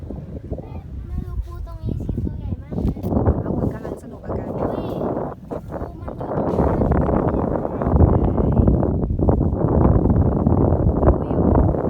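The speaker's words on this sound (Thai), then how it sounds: "นี่คือลม" Gusty wind at a mangrove forest shore at Ang Sila in Chonburi, a loud steady rush that swells stronger in the second half, with voices talking over it early on.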